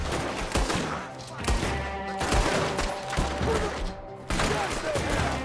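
Gunfire in Red Dead Redemption 2, a loud close fusillade of overlapping shots and rapid bursts with brief lulls, echoing over a dense game soundscape.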